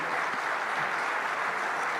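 At a U.S.-Africa business summit, a conference audience gives the moderator and panelists a steady round of applause, dense and sustained at moderate loudness for the whole stretch.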